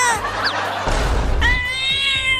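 Cats meowing loudly and close, several drawn-out, wavering meows one after another, with a short burst of rustling noise between them.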